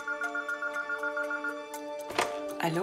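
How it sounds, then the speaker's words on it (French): A telephone rings with a repeating electronic trill in short regular pulses, moderately loud and alone, followed by a couple of brief rustling handling noises near the end. "le téléphone sonne"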